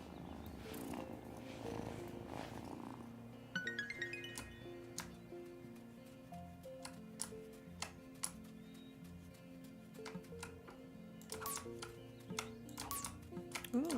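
Soft purring of a cat in the life-sim video game Wylde Flowers, a low steady rumble running under game music with chimes and clinks throughout.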